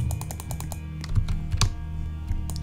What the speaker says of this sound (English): I keep clicking E.